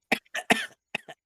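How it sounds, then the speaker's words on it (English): A person coughs several times in short bursts, four or five sharp, close coughs in quick succession with brief pauses, alone without talk. "I actually was able to hear your cough this time."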